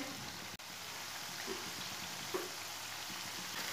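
Cubed potatoes frying in hot oil give a steady, even crackle with faint bubbling and a few soft pops, with no voices.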